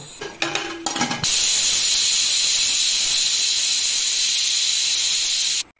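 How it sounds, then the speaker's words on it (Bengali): Pressure cooker of lentils with pumpkin shoots letting off its whistle: a few clanks of metal, then a loud sustained hiss of escaping steam that runs steadily before stopping abruptly. "আবার একটা সিটি মেরে নেব।"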